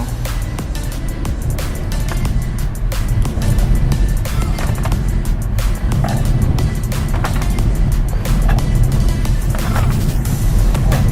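Cabin of a Honda Civic FC on Profender shocks rolling along a concrete road, giving a constant low tyre and road rumble with repeated small thumps from the slab joints and a voice faintly underneath.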